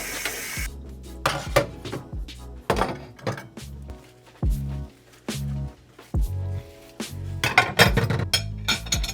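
A recyclable food container washed in a kitchen sink, with running water bursts, hollow thunks and clinks of pots and dishes knocking together in irregular, close, clattering bursts.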